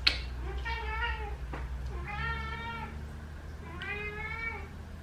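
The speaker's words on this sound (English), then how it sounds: "Obviously, I need to feed my cats." Several house cats meow in three drawn-out calls, each about a second long, close and clear over a low background hum, with no talk.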